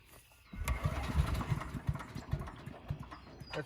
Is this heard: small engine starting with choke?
yes